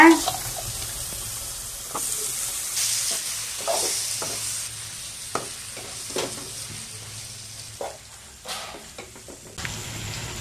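Eggplant and dried fish frying together in a pan, with an ongoing sizzle broken by repeated sharp clicks and scrapes of stirring and a few louder splashy bursts, close up throughout.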